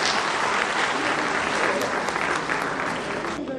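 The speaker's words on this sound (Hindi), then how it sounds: "स्वागत के समय हम लोग तालियां बजाने में कोई कंजूसी नहीं करें।" Dense, steady clapping from a crowd gathered at a book event, a continuous welcoming round of applause that stays loud and even throughout without any talk over it.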